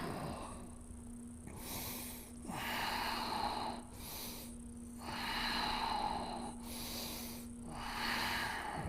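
Slow, deep breaths during a runners' yoga class for hips, shoulders and neck: three or four long, audible inhale-exhale cycles, soft and close, with a faint steady hum underneath and no talking.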